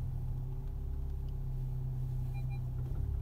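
2017 VW Arteon with a 280 PS engine reversing into a parking space under park assist, a low, steady engine rumble and hum close by, unchanging and without speech.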